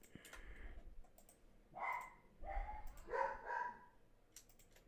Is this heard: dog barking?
yes